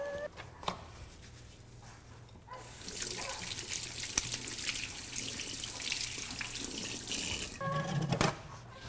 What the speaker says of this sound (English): at least wash my hands